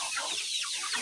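Layer hens on a chicken farm clucking in short, overlapping bursts, nearby and steady over a faint hiss, with no talking.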